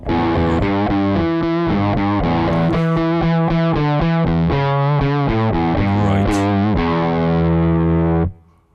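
A heavily distorted electric guitar through a Kemper Profiler amp profile plays chords and low single-note lines with a fuzzy, broken-sounding amp tone, loud and continuous, then cuts off abruptly.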